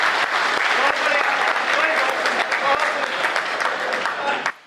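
Loud, dense audience applause fills a Hindi hasya kavi sammelan comedy poetry recital, steady clapping from a large crowd that cuts off abruptly at the end.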